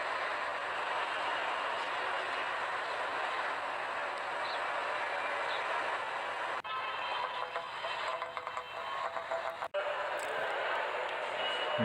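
Inside the large Lahore railway station, a dense, steady rumble of trains and station bustle persists throughout, with a scraping clatter and shifting mechanical noise in the later seconds.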